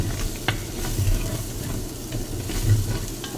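Tomatoes and beef stew with stout sizzle and bubble in a pot as they cook down, a close, steady frying hiss with occasional stirring scrapes and no talking.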